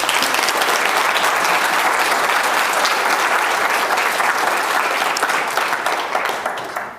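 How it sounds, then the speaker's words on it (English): Warm, sustained applause from a conference audience at an opening keynote, dense even clapping holding strong before thinning slightly at the end. "they deserve a very warm round of applause"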